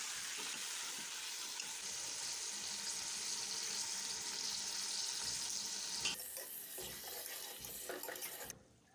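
Pre-fried onions added to a simmering beef stew, giving a steady rushing sizzle with a watery, tap-like hiss that holds for several seconds, then drops off and cuts to near silence at the end.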